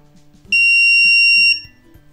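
Piezo buzzer on an Arduino board sounds after a 10-second timer, one loud piercing tone lasting about a second, with soft clicks and low hum around it.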